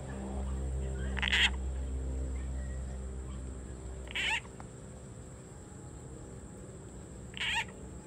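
Three short, raspy calls spaced a few seconds apart stand out over a low, steady hum, like frogs croaking nearby in a quiet night setting.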